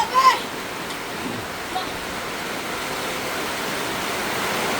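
A sudden heavy rain downpour roars as a dense, even hiss that fills the whole stretch, with a brief bump of handling noise at the start and a faint voice.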